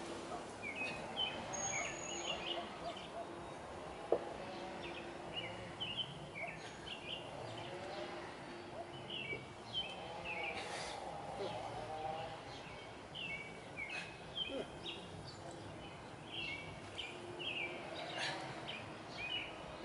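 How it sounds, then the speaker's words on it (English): Birds chirp and sing in repeated short phrases at a distance, a quiet outdoor chorus with soft background hiss and no talking. "just hearing the birds singing, nobody else but us and the birds"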